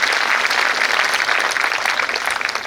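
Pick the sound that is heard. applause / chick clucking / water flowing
applause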